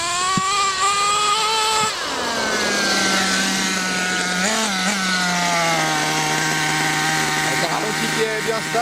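Nitro model engine settling into a steady idle after a revving drop, its buzzing harmonic drone holding level and loud throughout, with brief pitch wobbles midway.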